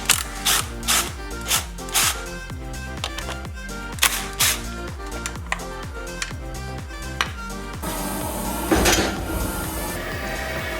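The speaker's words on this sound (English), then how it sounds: "There's a couple of nuts and bolts to remove, just to strip it down so we can blast it" Wrenching loose nuts and bolts on a car's wiper arm mechanism during a Sierra Sapphire RS Cosworth restoration: a run of sharp, close metallic ratchet clicks in steady bursts, ending in a rougher scraping stretch.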